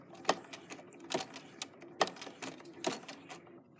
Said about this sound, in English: I'm going to hang on to them while I do a little bit of a back stitch